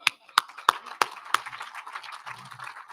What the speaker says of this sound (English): I just wanted to give them one more round of applause.